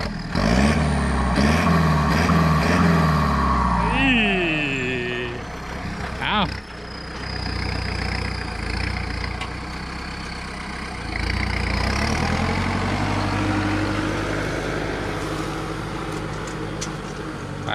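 A tractor engine revs up and down in rising and falling surges, then settles into a steady rumbling idle, close and loud.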